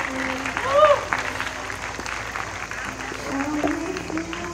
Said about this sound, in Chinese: 来，请大家再给他们个热情的掌声